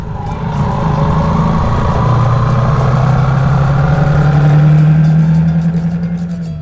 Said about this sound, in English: Yamaha YBR 125. Just a small street bike